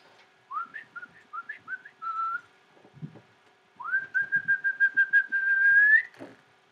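A person whistles a birdlike morning call: short rising chirps, then a pause, then a long sustained whistled note that climbs at the end, clear and close with soft background knocks.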